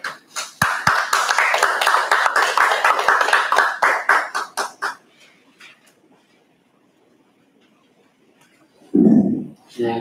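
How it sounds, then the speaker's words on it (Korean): Lecture hall audience clapping to welcome a speaker at a talk on death preparation and mind study, a few seconds of brisk many-handed applause that thins out into silence before a voice begins. "박수로 맞아주시기 바랍니다."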